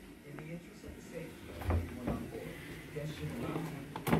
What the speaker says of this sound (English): Drawer with a blow dryer.